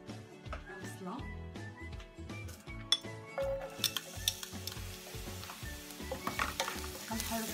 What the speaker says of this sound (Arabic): كنحرك فيها مزيان حتى